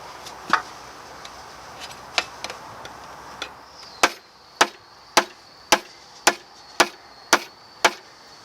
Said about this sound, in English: they use a special kind of hammer, and you can tell by the sound the exact pitch how much steel there is